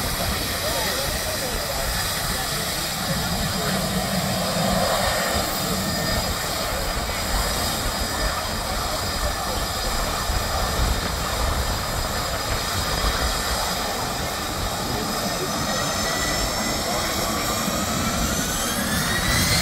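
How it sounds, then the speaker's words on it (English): Jet airliner engines roar continuously beside St Maarten's airport beach, a loud sustained broadband rumble and blast with faint voices mixed in. "You're coming here for the jets and the jet blast."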